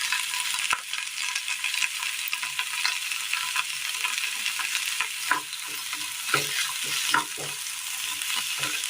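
Sliced onion and chopped cabbage fry in a pan while being stirred, a bright continuous sizzle broken by scraping and tossing sounds from the spoon, close and fairly loud.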